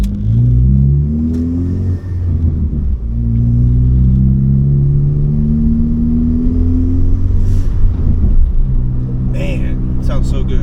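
A Ford Focus MK3 fitted with a SideWinder turbo kit revs up on a first drive, its engine note climbing and sweeping repeatedly, loud and close, with someone talking over it.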